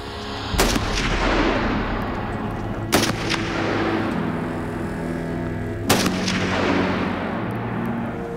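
Loud rifle gunshots at an Arctic shooting range for polar bear defence, three sharp reports spaced a few seconds apart, each followed by a long rolling echo over steady wind noise.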